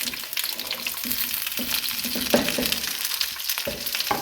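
Diced carrots, sliced onions and cauliflower fry in a pan with a continuous crackling sizzle, broken by occasional stirring scrapes, close and steady.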